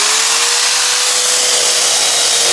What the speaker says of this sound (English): I've got this wire wheel here on this drill, and I just go over them real good with that wire wheel